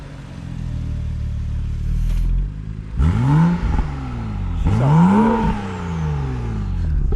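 A BMW F30 fitted with loud downpipes idles with a deep rumble, then gets two sharp rising revs close by, each swelling and falling back.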